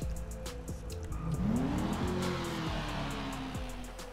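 An Annis Euros X32 sports car engine in GTA Online hums and rises in pitch as it accelerates, then settles into a steady drone; moderately loud with no voices.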